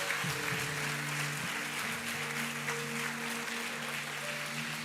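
Congregation at a revival conference in a church claps steadily, a broad even wash of applause with sustained musical tones underneath, no voice standing out.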